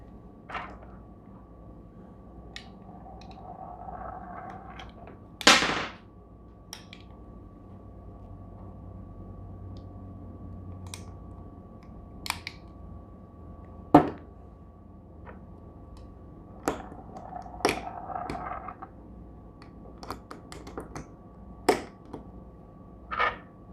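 Pistol rounds are pushed one by one into a magazine, giving sparse, faint metallic clicks and snaps spread over a quiet background.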